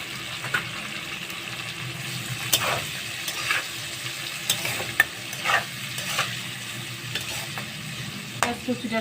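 Chopped onion hits hot oil in a pan while a Bengali curry of taro stolons with dried fish is cooked, giving a steady close sizzle with stirring scrapes and clinks through the whole stretch, no talking.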